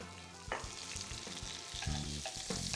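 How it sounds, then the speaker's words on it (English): Capers dropped into browned, lightly caramelized butter and sizzling in the pan for a scallop grenobloise, a steady close fry with light stirring and small bursts of crackle throughout. "Now we're going to put our capers in the butter."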